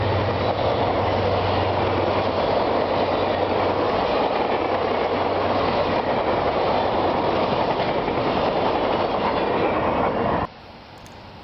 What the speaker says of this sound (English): The big Centennial races past Shimawa at track speed of 70 miles per hour.